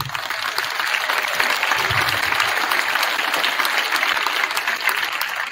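Audience at a middle school winter band concert applauds the assistant director of bands: a dense, steady wash of clapping from a full room, loud and sustained for the whole stretch with no break.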